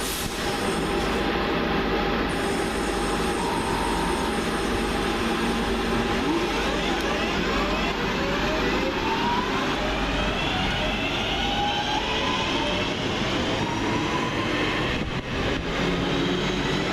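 A Northern Rail class 323 electric multiple unit departs Guide Bridge station on a Manchester Piccadilly to Hatfield service, a loud steady rumble with rising motor whine and wheel noise running throughout, close by, with no talk.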